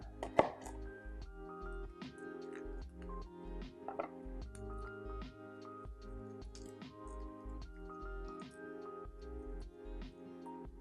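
A knife chopping garlic on a board for pesto, heard as sharp, irregular taps under light background music, close and fairly quiet.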